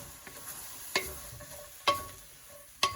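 A spoon stirs vinegar into labong paksiw, a bamboo shoot stew, with a quiet simmering hiss under three sharp metallic clinks against the pot spaced about a second apart, close and with no talking.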